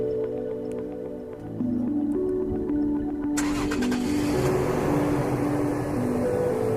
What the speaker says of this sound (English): use the remote start button,